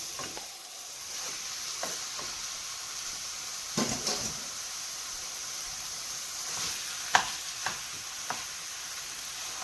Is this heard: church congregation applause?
no